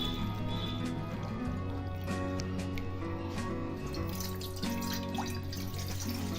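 Water poured or run into a pot while making rice-flour handi papad dough in a home kitchen, a steady continuous splashing flow lasting throughout, moderately loud beneath tonal background music.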